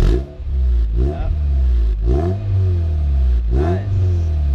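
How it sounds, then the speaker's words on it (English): A car engine with a Pexi muffler-type exhaust, an SR engine, revs lightly four times in a row, each deep rise and fall close and loud over a steady idle rumble. "So just a little light rev just so you guys can hear what it sounds like."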